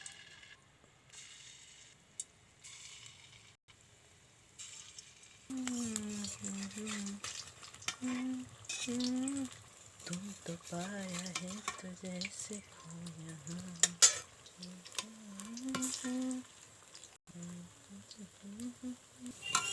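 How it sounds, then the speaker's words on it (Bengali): Small round palm fritters, made from palm pulp, semolina, flour, rice flour and sugar, deep fry in hot oil in a wok, giving a steady close crackle. Someone talks over it for most of the stretch. "কি সুন্দর দেখুন মুচমুচে হয়ে ভাজা হয়ে যাচ্ছে"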